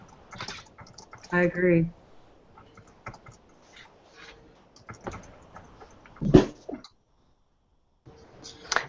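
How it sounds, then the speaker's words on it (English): Keys on a computer keyboard clatter softly in scattered bursts while a person talks nearby, the tapping faint and intermittent beneath the voice. "because I'm typing"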